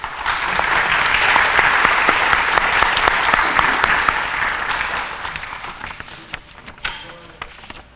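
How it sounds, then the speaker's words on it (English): Audience applause fills an adult education graduation ceremony, a dense, loud crowd of clapping that holds steady for several seconds before thinning into scattered claps near the end. "Let's give a round of applause to those that are here celebrating and supporting you this evening."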